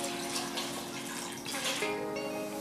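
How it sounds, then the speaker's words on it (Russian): Water pours steadily from a tap over gooseberries in a cooking pot, a continuous close splashing rush that shifts slightly in pitch as the pot fills, with no talk. "И наливаем сверху воды."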